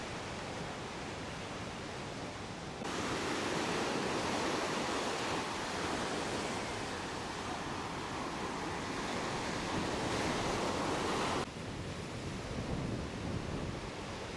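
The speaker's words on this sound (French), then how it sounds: "Les vagues commencent à bien se former" Ocean surf on Sunset Beach, Hawaii, with waves breaking into a broad, steady roar that swells noticeably louder for several seconds mid-clip before easing back, no voices present.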